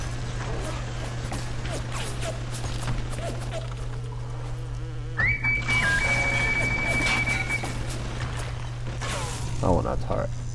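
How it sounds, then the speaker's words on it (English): An alarm goes off in the video game BioShock, with a sustained electronic tone starting midway over a constant low game hum and scattered in-game noises and clanks. "Those things there, they set off the alarm, so the bots will actually come after me."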